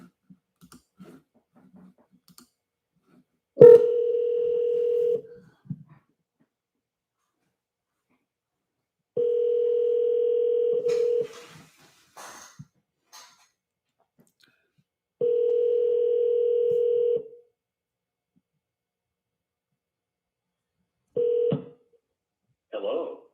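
A landline number is dialed on a telephone, with clicks followed by a few clear, evenly spaced ringing tones separated by silence.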